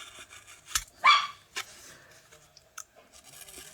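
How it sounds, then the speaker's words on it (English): Dogs bark indoors in a home, several sharp close barks in quick succession, with a few softer yips after, alone without talk. "Apologies for the moaning husband and the barking dogs"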